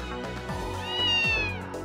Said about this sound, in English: Okay, the cat's right here.